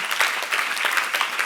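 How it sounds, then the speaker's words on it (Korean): A youth group audience at a church Q&A session applauds, a loud close burst of many hands clapping in a dense, lively patter. "여러분 낳아준 거 박수 한번 치세요."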